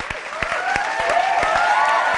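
An audience at a television studio production claps steadily, a crisp, close burst of applause that grows slightly fuller over a couple of seconds.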